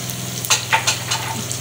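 Cumin seeds hit hot oil for chana dal, giving a soft, continuous sizzle with a few brief crackling bursts near the start.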